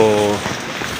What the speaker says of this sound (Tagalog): ang ulan natin ngayon ay pabugso-bugso